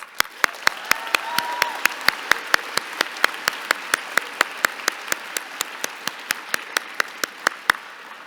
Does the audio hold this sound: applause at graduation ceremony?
yes